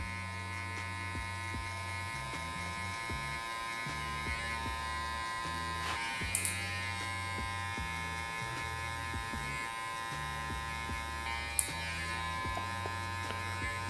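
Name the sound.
electric beard trimmer fading a beard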